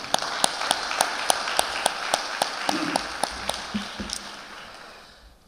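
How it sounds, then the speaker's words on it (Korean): A congregation at a seminary chapel worship service applauding a pastor before his sermon, with sparse evenly spaced individual claps over a soft wash of clapping that fades toward the end. "뜨거운 박수로 이렇게 하겠습니다"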